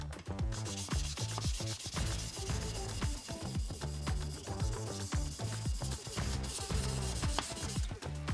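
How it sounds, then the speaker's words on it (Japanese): A knife edge is honed at about a 30-degree angle on a whetstone with rhythmic close back-and-forth rubbing strokes, steady and unbroken, and no voices. "で30度ぐらいで小刃付けしていきます。"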